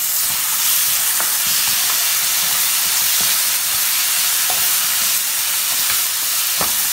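Garlic sautéing in a pan for a drumstick flesh thokku, a steady broadband sizzle with a few faint utensil taps scattered throughout, fairly close and continuous with no talking.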